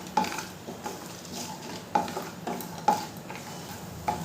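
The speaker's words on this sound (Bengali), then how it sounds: "ওই তেলের মধ্যেই দিয়ে দেবো চিনেবাদাম আর শুকনো লঙ্কা। নেড়ে চেড়ে খুব ভালো করে ভেজে নেব" Peanuts and dried chillies frying in hot mustard oil, stirred in a pan, a close soft sizzle with about four sharp rhythmic clinks of a spatula against the pan, with no talking.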